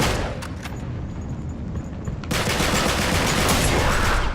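Gunfire in the video game Uncharted 3, a few sharp shots up front and then a dense, sustained burst of rapid fire that runs to the end.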